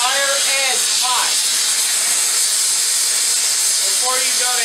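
A steady, loud hissing roar of a blacksmith's torch heating the edge of a steel cupping tool runs throughout, while someone speaks over it briefly near the start and again near the end.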